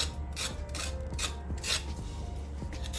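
A kitchen knife scrapes the skin off a large carrot in a series of dry, rasping strokes, roughly one every half second, close and fairly quiet, with no talk over it.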